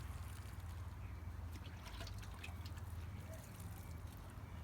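Water rinses lime and hard water stains off a glass window, a faint steady splashing trickle running continuously at low level.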